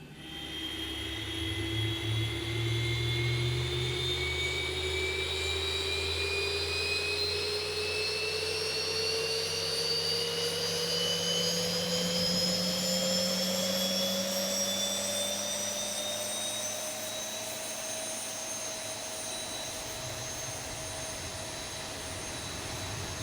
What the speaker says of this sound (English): we're going to start engine number 2